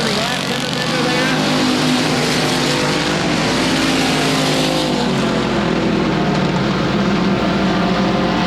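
Race cars at Leesville 171 Speedway roar around the track during the 2016 Bayou Bash, a loud sustained engine drone from a passing pack, with an announcer talking over it.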